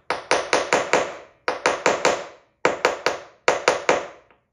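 A tool piece for building a custom show-car trunk is struck in sharp, loud taps, grouped in bursts of four to five evenly spaced hits with brief pauses between groups, each tap ringing and decaying quickly, close and without talk.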